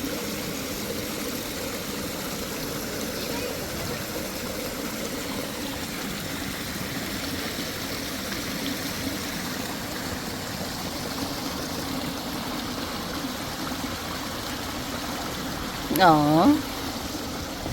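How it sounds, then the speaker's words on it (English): River stream water flowing in a steady, even rush and trickle, continuous and moderately close, with a short voiced exclamation near the end. "reminded me of some of the sounds from going to the river as a child"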